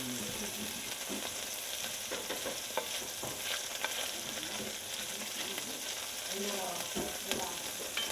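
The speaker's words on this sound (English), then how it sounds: "Make sure to stir it." Stuffed veal rolls with melting cheese fry in a pan over gas, with a quiet, continuous crackling sizzle and intermittent scraping of stirring close by.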